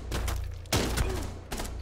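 Gunfire in Rainbow Six Siege: a few sharp, punchy bursts of shots in quick succession, loud and close over a steady game background, with no voices.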